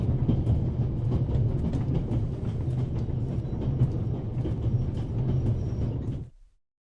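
A train rumbles steadily along in the game The Raven: Legacy of a Master Thief, a continuous low rolling drone with faint rattles and clicks, loud and close, cutting off abruptly at the end.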